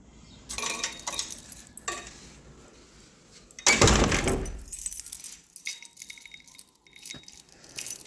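House keys jangling and clinking in bursts, with a louder rattle midway, close up against quiet indoor background.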